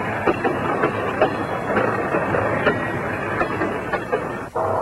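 A 1974 Penn Central freight train runs on track near Wilmington, Delaware, giving a steady rumbling roll with regular metallic clicks of wheels over rail joints, heard close and without speech.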